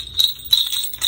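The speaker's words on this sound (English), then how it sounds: "Cute little jingle bells, but with a little jack-o'-lantern face on it." Small jingle bells shaped with little jack-o'-lantern faces, a pack of five, give two or three light, bright tinkling shakes, close and fairly quiet, with no talking.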